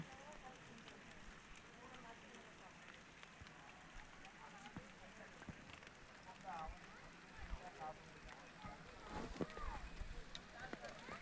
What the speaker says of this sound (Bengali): আজকে একটি আলাদাই মনোরম পরিবেশ, হালকা বৃষ্টি পড়ছে।